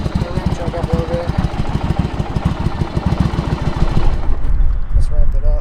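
A 1997 Yamaha Virago 1100 motorcycle engine idles with the choke partly on, a close, steady rapid pulsing that turns rougher and louder near the end, with voices talking over it.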